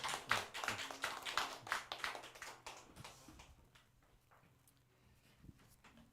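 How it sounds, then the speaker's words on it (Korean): A church congregation at a Sunday worship service breaks into applause, a dense burst of clapping that fades out after about three seconds, leaving a quiet room with a few scattered taps. "큰 박수 하겠습니다"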